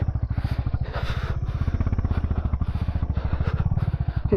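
A motorcycle labouring along a rough mountain road in Nepal, its engine thumping in a fast steady pulse, close and loud, with the rear wheel slipping on the loose surface.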